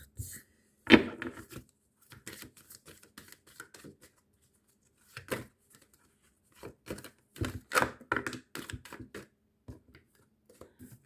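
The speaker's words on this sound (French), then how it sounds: "je mets un point d'honneur à battre les cartes devant vous" Tarot cards are shuffled by hand at close range, producing soft, scattered snaps, riffles and slaps that come in irregular short bursts with quiet gaps between them.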